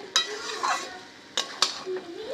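A spiced vegetable chop filling is stirred in a pan, with several sharp spatula knocks and scrapes over a soft, low sizzle close by.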